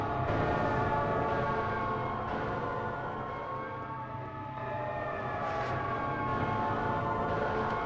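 A subway train in the Silent Hill 3 video game rumbles loudly and continuously, with grinding metallic tones and a siren-like wail rising over the heavy roar.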